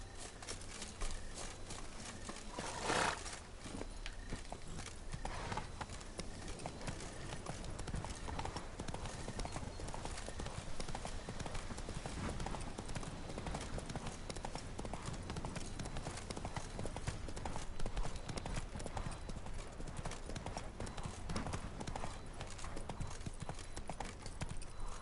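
Roach the horse gallops in The Witcher 3: Blood and Wine, a dense rapid clip-clop of hooves running steadily and loudly for the whole stretch, with a brief louder burst early on.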